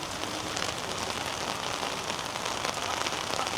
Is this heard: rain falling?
yes